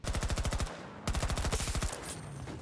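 PBX-45 submachine gun fire in Battlefield 2042, two loud rapid bursts of close automatic shots separated by a short pause, followed by a brief trailing noise.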